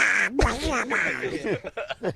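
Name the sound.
person imitating Donald Duck's voice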